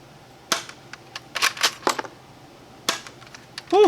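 FMG 9 shell-ejecting manual folding pocket dart blaster being fired, a series of sharp plastic clicks and snaps in irregular clusters, fairly close, with a short faint voice sound at the very end.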